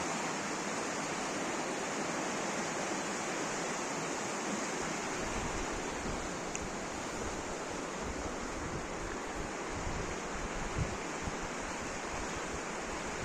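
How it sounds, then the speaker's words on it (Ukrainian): The Opir mountain river in the Skole Beskids, Ukraine, rushes steadily and loudly nearby, a continuous broadband roar of churning water with no voices. "шум річки"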